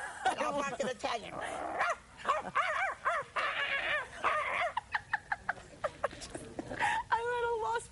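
A person imitates a dog in a rapid string of yapping barks and whimpering yips, loud and close, with short repeated bursts toward the end.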